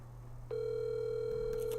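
A phone call starts with a steady, unbroken electronic tone that sounds like a dial or ringback tone and carries on for over a second without being answered, with faint background noise and no talk.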